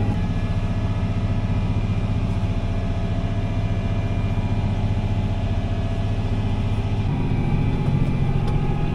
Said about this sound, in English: Tillage tool putting a real nice finish on this.